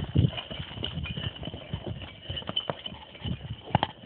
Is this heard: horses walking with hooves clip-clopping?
yes